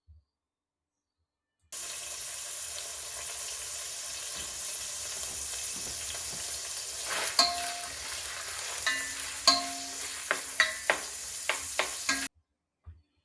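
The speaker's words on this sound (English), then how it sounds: "And then I add the sliced sausage. Stir and brown until golden." Sliced sausage browning in about five tablespoons of hot olive oil in a pot over a campfire for Hungarian potato paprikash, a soft continuous sizzle broken by several sharp scraping and clinking stirs of a utensil.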